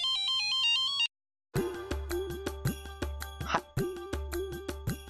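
A phone ringtone plays a bright repeating electronic melody, cuts off briefly, then resumes with a busier looping tune over a steady low pulse.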